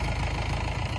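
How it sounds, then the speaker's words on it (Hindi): A tractor engine idles during wheat threshing, producing a brief, steady low rumble with a faint knocking pulse, moderately distant and without voices. "ट्रैक्टर आ गया है"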